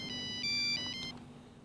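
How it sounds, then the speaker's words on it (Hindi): A mobile phone ringtone signals an incoming call in a Hindi TV serial scene: a soft, bright electronic melody of repeating tones, faint and distant over a quiet room hum, lasting under two seconds. "नेहा भाभी का फोन है, तुम बात कर लो ना"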